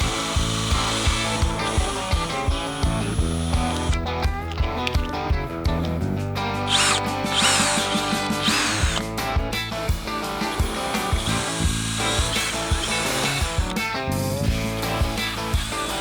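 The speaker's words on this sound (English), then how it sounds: "I hate drilling brand new painted parts" A power drill bores holes into new painted Harley-Davidson motorcycle parts, with repeated close, loud bursts of whirring and grinding interrupted by short pauses, and no talking.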